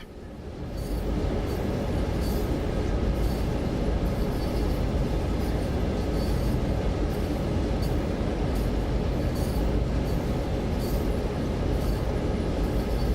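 Train in Train Sim World running with the train stretched out ahead of a big uphill climb, with little coupler noise: a steady, loud rail rumble with rattling wagons that fades in during the first second and then holds constant for the rest.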